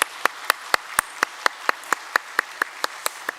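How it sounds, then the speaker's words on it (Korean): Clapping in a Korean Sunday church service welcoming newly registered members, sounding as a single, slow, evenly spaced series of about fourteen sharp claps, close and distinct with no talk over it. "박수로 환영하겠습니다"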